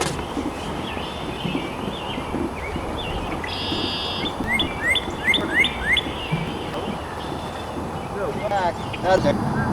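A male red cardinal chirps in spring outdoors, sharp rising whistled notes in quick bursts of several, ringing above a rustling, noisy background, with a person talking nearby.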